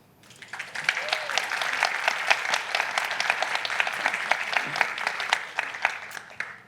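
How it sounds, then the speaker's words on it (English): An audience at a university forum on youth mental health breaks into applause, a steady wash of clapping that swells quickly and holds at moderate volume from a roomful of people. "Yes, we're gonna hold that applause for a moment."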